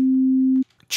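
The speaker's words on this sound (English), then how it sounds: "They are sine waves," A pure synthesizer sine wave holds one steady, clean low tone for about half a second, then cuts off abruptly, followed by faint rustle and a brief burst of hiss at the end.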